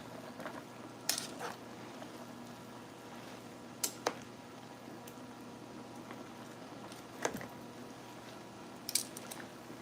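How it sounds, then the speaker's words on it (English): A utensil scrapes and clinks against a cooking pot during stirring, giving a few soft, irregular taps and scrapes over a low, steady kitchen hum, faint and close, with no talking. "Stir that in."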